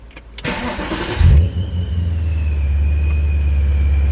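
A supercharged BMW E39 M5 engine cranks briefly, catches with a loud burst, then settles into a steady, low rumbling idle up close.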